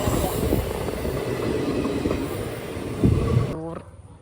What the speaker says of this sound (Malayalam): നമുക്ക് ഇവിടെ ട്രെയിൻ വന്നു